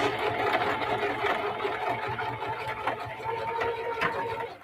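A sewing machine runs in a short steady burst while back stitching across the layers of a small zipper coin pouch, its fast mechanical whir close and even with a light rattle.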